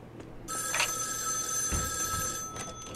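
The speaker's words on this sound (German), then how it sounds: "das ist Telefon hinten" A telephone rings in the back of a diner in the video game Joe's Diner, its steady electronic ring filling the clip with a bright, sustained tone and no talk over it.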